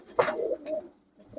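Pigeons at a Bangladeshi pigeon shop coo clearly and close by, a rolling coo followed by a shorter second phrase and a brief soft call at the end.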